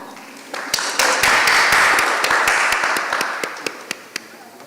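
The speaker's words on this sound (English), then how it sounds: "You can clap." An audience at a meteorological and emergency management panel discussion in Barbados gives a short round of polite applause, a swelling patter of hands that thins out into a few scattered claps.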